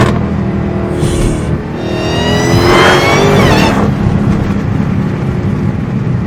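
Close, loud revving from a Dodge Hellcat fitted with a new exhaust: a rising, snarling engine pitch over a steady low rumble, peaking mid-clip before easing off. No voices.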